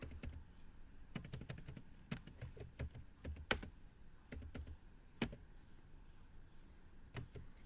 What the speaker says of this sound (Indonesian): Kita ketik bab 2